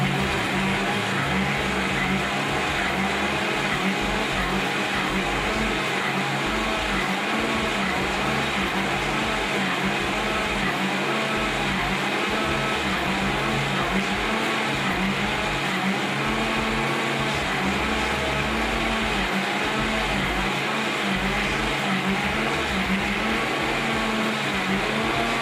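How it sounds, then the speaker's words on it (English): A blender runs steadily on a whole tomato in water, a continuous dense motor whir with churning that holds at a fairly even loudness from start to finish, with no talking. "we'll simply drop it in the blender,"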